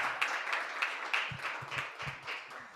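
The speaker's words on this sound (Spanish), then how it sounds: "Now you can applaud me." A small lecture audience claps for a few seconds, the scattered applause fairly quiet and a little distant.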